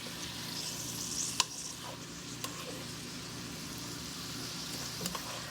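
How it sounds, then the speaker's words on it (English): Onions sizzle steadily in a hot pan, with a few light scrapes and taps of a spoon stirring them. "I'm kind of trying to get the onions off the bottom so they don't get burnt."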